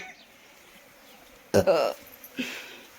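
After a drink of water, a single short burp bursts out, fairly loud against a quiet room, followed by a fainter brief sound.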